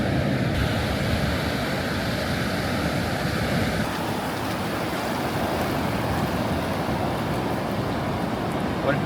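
Ocean waves washing on a Costa Rica beach, a continuous broad surf roar with wind buffeting the microphone, steady throughout.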